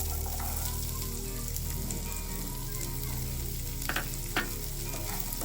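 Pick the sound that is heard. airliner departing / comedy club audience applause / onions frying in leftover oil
onions frying in leftover oil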